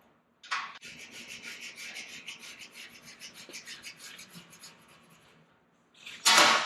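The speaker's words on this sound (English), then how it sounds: "I'm just going to make a quick mark." A quick pencil-style mark is drawn along an inch-thick straight edge on a 1927 Ford roadster project, a close, steady scratchy rubbing stroke lasting about five seconds, bracketed by short louder knocks at start and end.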